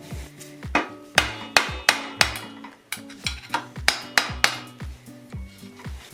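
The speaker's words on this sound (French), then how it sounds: "Gros tournevis qu'on peut taper, maillet." A large screwdriver is struck with a mallet to remove a bicycle bottom bracket, giving a series of sharp metallic knocks at an irregular, fairly quick rhythm, close and clear with no voices.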